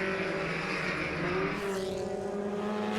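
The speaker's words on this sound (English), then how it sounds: "That dice of 5 cars is still going past the start-finish line." A pack of five historic Formula Ford race cars sweeps past the start-finish line at a racing festival, with overlapping engine notes that swell and shift pitch as the cars go by.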